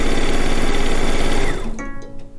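A sewing machine runs fast and loud while piecing quilt fabric for a log cabin quilt top, then winds down and stops, leaving a few soft clicks.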